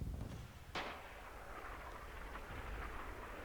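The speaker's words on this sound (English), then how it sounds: "I see just an artillery dropping here" Artillery shells land in a multiplayer war video game, one sharp blast near the start followed by a heavy rumbling roar that lingers under constant low battlefield noise.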